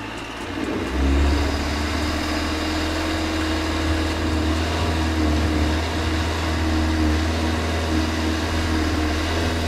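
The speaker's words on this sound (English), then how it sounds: "The engine revs up to high RPMs, but it's not enough to provide the wheels with sufficient torque." A Volvo XC90 SUV engine revs on an off-road obstacle, holding a steady, loud, droning high-RPM tone with a brief surge near the start.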